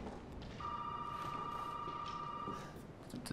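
An in-game telephone rings in Resident Evil 7 as one steady electronic tone held for about two seconds, faint against a low ambient background.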